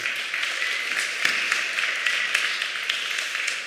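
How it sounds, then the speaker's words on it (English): A church congregation applauds steadily, dense even clapping held at one level for several seconds, slightly distant in a large room, with no voices on top. "Give him a round of applause, Charlie"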